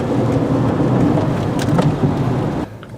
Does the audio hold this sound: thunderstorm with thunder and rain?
yes